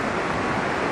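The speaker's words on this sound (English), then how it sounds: "look at the waves." Ocean surf rolling onto the beach at New Brighton, a steady broadband wash of breaking waves with wind buffeting the microphone, constant and fairly loud with no pauses.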